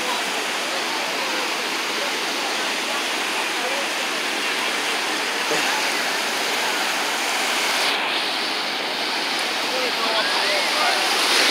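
Ocean waves at a beach wash back in a continuous broad rush of foam and water, loud and close, swelling slightly near the end, with no clear talking over it.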